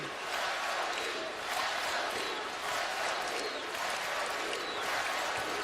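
Basketball arena crowd of Duke fans roars during a tied Duke versus Utah game in 2015, a loud continuous wash of cheering and shouting from a large audience.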